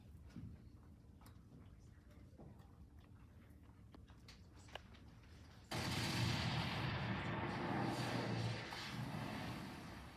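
A faint, distant rumble of American and French cannon fire at a Revolutionary War event, heavy booms rolling under quiet background noise, growing louder and denser partway through.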